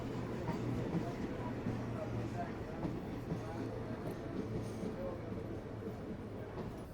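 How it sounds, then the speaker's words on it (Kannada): At a busy railway station, the Talguppa–Bengaluru Intercity Express rumbles in with a low, steady rolling drone and a faint hum, heard over a crowded platform's background murmur. "ಇವಾಗ ತಾಳಗುಪ್ಪ ಬೆಂಗಳೂರು ಎಕ್ಸ್ಪ್ರೆಸ್ ಬಂದಿದೆ. ಇಂಟರ್ಸಿಟಿ ಎಕ್ಸ್ಪ್ರೆಸ್ ಇದು ನೋಡಿ ಬಂದಿದೆ."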